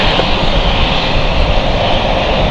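Aircraft engine roaring at St. John's International Airport in Canada, a loud, dense, steady drone that fills the short moment with no breaks and no voices.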